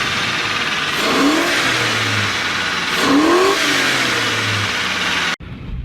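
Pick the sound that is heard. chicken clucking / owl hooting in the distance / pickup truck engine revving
pickup truck engine revving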